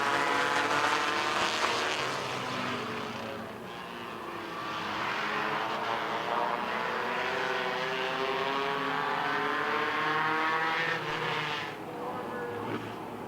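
Race cars at a midway speedway roar away together after the green flag in a heat race, making a dense, continuous engine howl that rises and falls as the pack passes.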